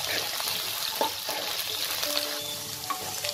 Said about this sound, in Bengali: আলুটাকে হালকা ব্রাউন করে আমি ভেজে নেব।